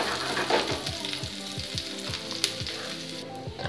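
Thickly cut onion sautéing in a pan for veg fried rice, a loud continuous sizzle with repeated low scraping strokes of a spatula throughout.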